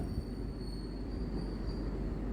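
Steady low rumble of a Kochi metro train running on rails in Ernakulam at night, with a faint high whine above it, continuous and even throughout.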